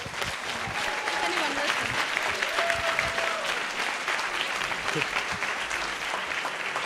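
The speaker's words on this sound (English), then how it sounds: "So if you could give Adrian just for this another round of applause." Sustained audience applause fills a General Assembly council meeting hall, a dense steady wash of many hands clapping throughout, with faint voices underneath.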